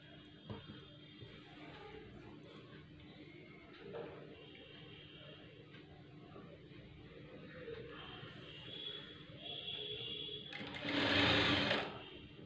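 A sewing machine stitches a star neckline into a plain blouse in a steady, quiet mechanical whir. A louder, faster burst of running near the end stands out.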